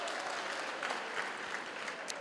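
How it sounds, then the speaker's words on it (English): A university graduation crowd applauds parents and funders, a steady wash of many hands clapping at moderate loudness throughout the short stretch. "give a round of applause to our parents and to the funders"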